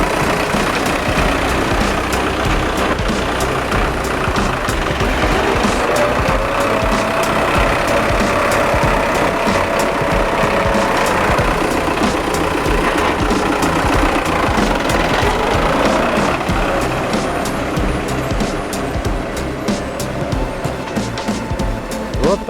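An MTZ-892 tractor engine runs steadily after gearbox repair, a loud, continuous close-up diesel rumble with a rhythmic knock, running unbroken throughout with no speech.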